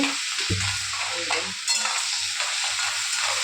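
Food sizzles steadily in a pan while a utensil scrapes and stirs a couple of times, with no talking.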